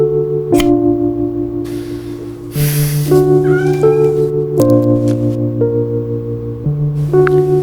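A cat meows loudly and close, with a run of drawn-out, tonal calls that shift in pitch from one to the next.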